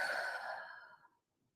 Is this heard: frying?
no